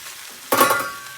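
Chicken cashew stir fry being mixed in a cast iron skillet: a quiet hiss swells suddenly into a burst of sizzling and scraping about halfway through, then holds steady, close by.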